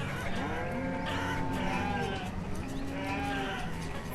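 Cattle lowing in the farming game Banished, several drawn-out moos overlapping steadily across the stretch, with a sheep- or goat-like bleat mixed in, moderately loud against a constant ambient bed and no talking.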